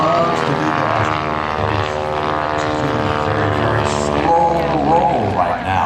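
A biplane's propeller engine drones loudly and continuously during an air show performance, its buzzing pitch wavering slightly, with a voice talking faintly underneath.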